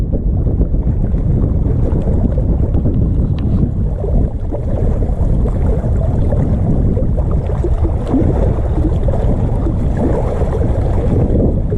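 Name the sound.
wind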